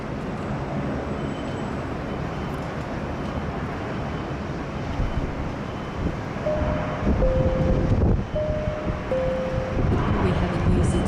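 A Qantas airliner arriving from Melbourne at Sydney Airport gives a steady, broad jet roar that swells slightly in the second half, with a few faint tonal beeps toward the end.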